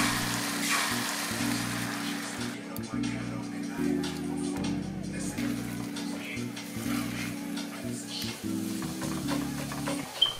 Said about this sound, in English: You're gonna scramble up some eggs.